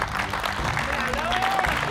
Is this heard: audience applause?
yes